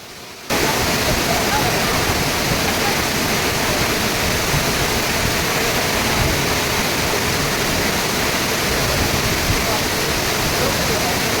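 A waterfall roars in a steady, loud, unbroken wash of white noise that bursts in after a brief quiet start and holds to the end.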